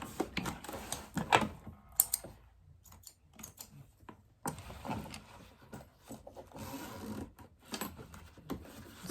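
Sewing machine stitching a few stay stitches on zipper tape for a crossbody bag, quiet irregular bursts of rapid mechanical clatter separated by short pauses, close and without talk.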